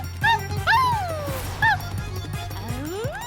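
A cartoon dog yips and whimpers in a few sharp, high, rising calls, close and loud, with short pauses between them and a cartoon soundtrack underneath.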